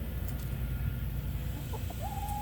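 Chickens cluck close by in a steady low outdoor ambience, with a few short calls and one longer drawn-out note near the end; no one speaks.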